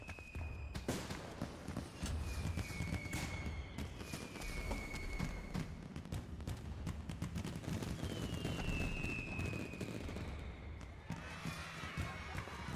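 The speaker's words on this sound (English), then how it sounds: "Fireworks!" Rapid, dense crackling bangs of fireworks going off continuously in the video game Final Fantasy XIV, with whistling rising and falling tones streaking through the barrage.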